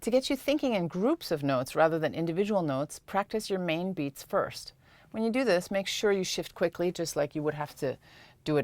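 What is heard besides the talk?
No everyday noises stand out.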